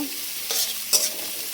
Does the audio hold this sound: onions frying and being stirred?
yes